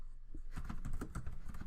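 Keys on a computer keyboard tapped in a quick, uneven burst of clicks, close and moderately loud, with no voice.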